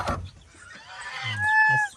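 A goose gives a short nasal honk amid faint farmyard clucking, close by and brief.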